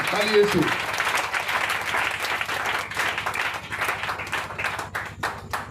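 Church congregation applauding during a sermon, a dense wash of clapping that continues steadily after a brief voice at the start.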